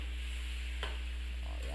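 Food being stirred in a hot wok while making a vinegar-based Filipino dish with crispy rice, with a soft steady sizzle, a couple of quick scraping strokes and a low constant hum underneath.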